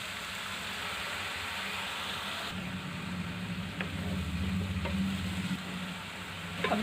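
Grated carrot fries in ghee in a pan, with milk going in, giving a steady close sizzle with occasional scraping stir sounds that grows slightly louder midway.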